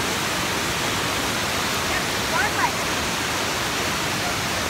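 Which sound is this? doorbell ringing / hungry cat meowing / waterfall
waterfall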